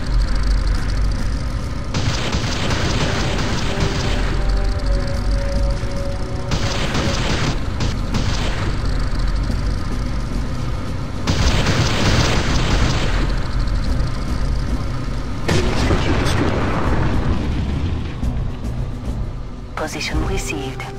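Enemy structures blowing up in the Ground Control strategy game, a continuous loud rumble of booming explosions and mechanical battle noise throughout, with repeated bursts swelling over the din.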